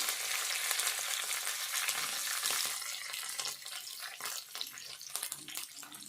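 Curry leaves crackle and spit loudly in hot oil for tomato chutney, a dense close burst of sizzling that eases after a few seconds into scattered pops and stirring.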